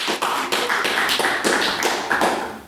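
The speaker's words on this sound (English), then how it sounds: "What applause please for our main speaker" Audience applause at a Halloween debate event, a steady patter of many hands clapping close by and fairly loud, pulsing slightly, with no voices over it.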